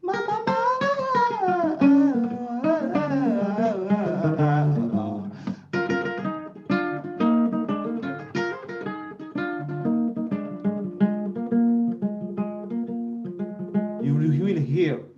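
Luba music with singing: a voice slides and wavers over steady melodic instrumental accompaniment, dense and continuous at a moderate level throughout.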